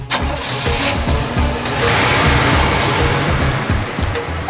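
A car engine cranks and catches, then runs with a loud, close, steady rumble for several seconds. No voices.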